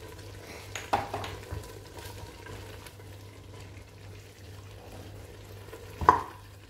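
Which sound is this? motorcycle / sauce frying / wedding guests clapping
sauce frying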